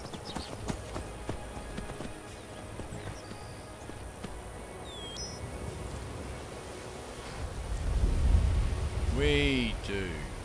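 Horse hooves clip-clop in the video game Skyrim as a group rides out, rhythmic thuds growing louder toward the end over a steady ambient backdrop.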